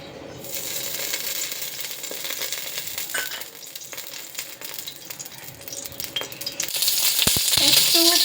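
Oil heating in a pan for avare kallu palav, a Karnataka bean pulao, with a soft sizzle and crackle and occasional metallic clinks, the frying growing louder toward the end.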